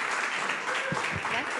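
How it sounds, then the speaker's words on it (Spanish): A live audience at an interview show applauds in a dense, steady wash of clapping, loud and close, with a few low thumps near the end. "Un aplauso, por favor."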